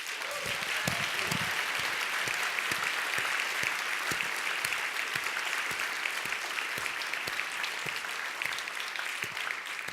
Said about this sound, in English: can we get a round of applause for all of our staff?